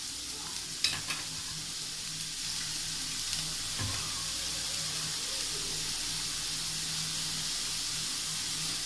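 Chopped normal-size onions sauté in hot oil for a Tamil chicken kuzhambu, giving a steady, close sizzle and hiss throughout, with a few light stirring knocks near the start.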